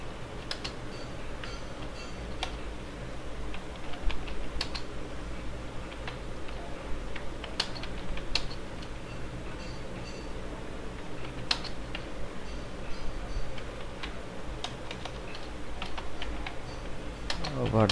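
Sparse clicks of typing on a computer keyboard while entering text in Photoshop CS6, scattered irregular keystrokes over a steady low room hum, fairly quiet and close.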